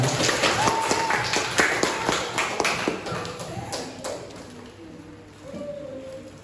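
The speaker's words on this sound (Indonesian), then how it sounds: "Tepuk tangan buat Mas Hamzah." A small group claps for a participant during an outdoor training session on organic waste management, scattered uneven claps over a few seconds with faint chirping in the background, tapering off toward the end.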